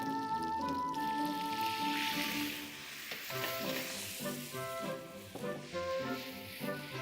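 Pork tenderloin sizzles loudly and steadily in a pan with butter as brandy goes in, a dense continuous hiss with a brief dip and surge partway through, close and without voices.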